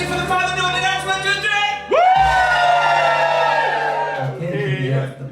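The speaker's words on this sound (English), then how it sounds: "Give me a cheer after 3 if you're excited for the final note of the dance." A crowd of wedding guests erupts in loud whoops and cheering at the final note of a dance, rising sharply partway through over background music and fading after a few seconds.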